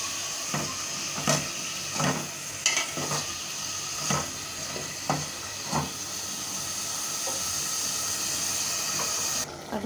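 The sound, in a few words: potatoes sizzling in a pan with salted hilsa fish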